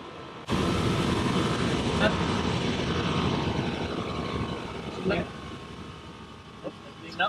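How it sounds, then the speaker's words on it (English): The air suspension compressor on a 2003-2009 Lexus GX470 starts abruptly and runs as a steady, loud mechanical whir throughout, with a few faint clicks over the drone. "I hear the compressor."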